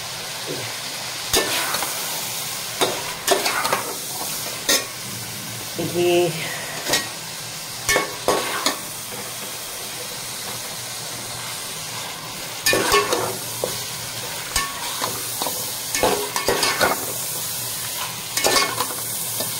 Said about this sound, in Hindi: जब तक हमारा चिकन फ्राई हो रहा है